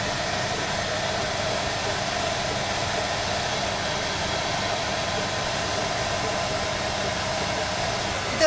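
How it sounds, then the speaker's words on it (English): A hair dryer blows a steady, unbroken rushing whir as it gently warms the top of a lab flask holding beryllium dibromide in diethyl ether, constant and fairly close throughout. "we will heat it gently with a hair dryer in order to speed up the process"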